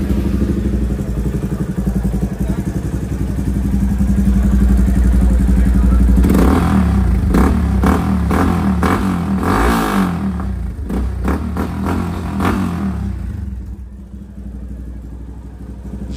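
A Yamaha FZS 250 motorcycle fitted with an R1M exhaust idles with a steady burble, then revs sharply several times in quick blips before settling back as the engine winds down.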